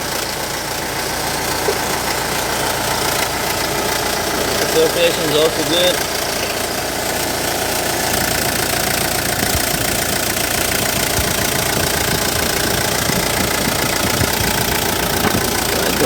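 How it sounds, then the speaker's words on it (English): A Hyundai Porter small truck's diesel engine idles steadily and evenly throughout, with a low rumbling hum and faint rattle, while a person talks over it. "let's start the engine and show you."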